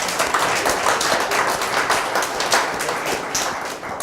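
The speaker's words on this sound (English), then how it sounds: "Let's give them a good clap," An audience applauding after a presentation at a conference session, steady many-handed clapping in a room that fades slightly toward the end.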